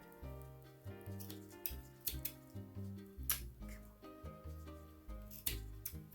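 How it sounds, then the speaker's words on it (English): Fabric scissors snip through material in a quick series of close, crisp cuts, repeated in an irregular rhythm with soft rustling in between during a die-cut scrap craft session. "And then fabric scissors."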